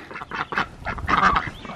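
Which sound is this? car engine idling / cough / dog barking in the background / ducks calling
ducks calling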